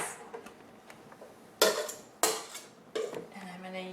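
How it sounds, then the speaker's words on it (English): Serrated knife cutting into a rolled Yule log sponge cake on a plate, a few separate sharp scraping strokes and clinks at close range, quiet in between. "I'm just using a serrated knife, and I'm going to do one cut like this"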